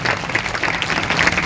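A Sunday church service congregation claps loudly and continuously, a dense, even wash of hand claps with a faint crowd murmur beneath.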